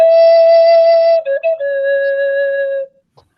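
A two-chamber flute plays from a single chamber, sounding a clear, steady breathy tone that holds, shifts slightly lower and then stops, close and alone for about three seconds.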